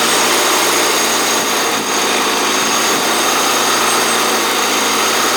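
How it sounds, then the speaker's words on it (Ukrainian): A tractor engine running on wood gas from a wood-fired gasifier drones steadily and continuously at close range, a broad mechanical hum with a faint high whine and no pauses. "заводиться двигун на генераторному газі."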